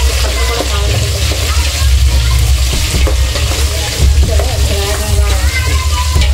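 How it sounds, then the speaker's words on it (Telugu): Onions frying in oil over a medium flame while being cooked for biryani, giving a steady, close sizzle with stirring scrapes throughout, and a voice speaking briefly over it. "మీడియం మంటలో పెట్టుకొని చేసుకోండి. ఎందుకంటే ఆనియన్స్ త్వరగా వేగిపోతాయి కదా, త్వరగా కలర్ కూడా మారిపోతుంది."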